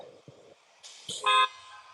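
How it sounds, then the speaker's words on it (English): A few short car horn honks, ending in one longer, louder blast, heard at a moderate distance. "So many honks."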